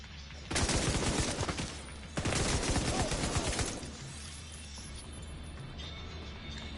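Rapid automatic gunfire from factions fighting in The Division 2, heard in two loud sustained bursts of several seconds each, followed by quieter distant shots.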